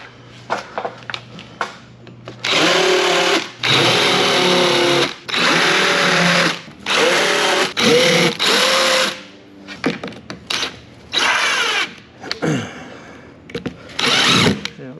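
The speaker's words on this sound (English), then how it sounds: "Okay, let's countersink those holes." A cordless drill countersinks screw holes in a wooden shipping crate. It makes a series of short, loud, buzzing bursts of about a second each, with brief quiet gaps between them.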